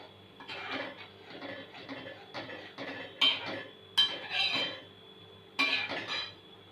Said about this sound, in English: Just rub and put. Stir on a slow flame.